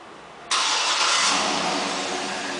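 A 2008 Cadillac Escalade started by remote start: after a quiet moment the engine abruptly catches with a loud broadband roar, then settles into a steady high idle.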